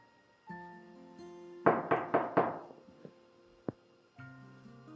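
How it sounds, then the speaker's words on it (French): Four quick, loud knocks on a door land in a tight burst, with a single fainter thud after them, in a Nigerian film scene over soft sustained background music. "Pourquoi frappes-tu à sa porte?"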